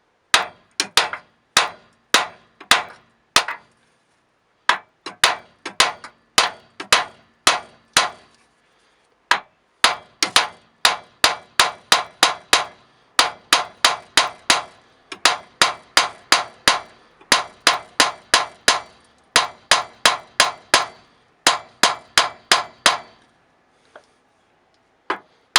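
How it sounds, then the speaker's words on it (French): Heavy hammer striking a car's front shock absorber assembly to free it, sharp metallic blows in quick bursts of several taps with short pauses, close and loud, no talking. "avec un gros marteau comme celui-là, tout doucement, on va taper"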